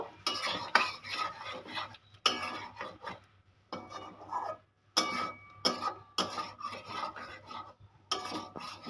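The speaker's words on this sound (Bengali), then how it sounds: "ভেজে রাখা পটলগুলো দিয়ে দিলাম দিয়ে আমি এটা সুন্দরভাবে নেড়ে নেব" Fried pointed gourd (potol) is stirred in a pan for a vegetarian doi potol. Bursts of rasping spatula scrapes against the metal pan come in rhythmic bouts, separated by brief pauses. The sound is close and fairly quiet.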